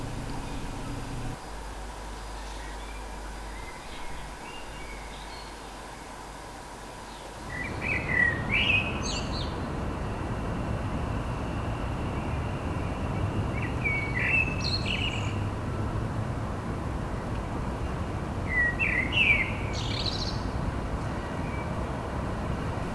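Birds call in short, bright phrases over a steady outdoor background hum, a few distinct chirps and whistles spaced several seconds apart, moderately distant.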